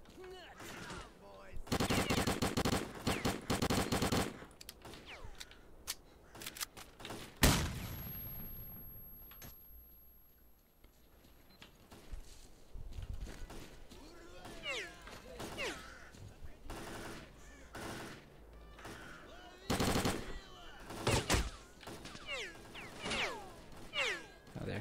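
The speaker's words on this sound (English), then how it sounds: "Oh, they're shooting me through the bloody pipe." Gunfire in the shooter game S.T.A.L.K.E.R.: Clear Sky during a bandit battle: bursts of rapid automatic fire and single shots come in clusters, some loud and close, some fainter, with a quiet lull partway through.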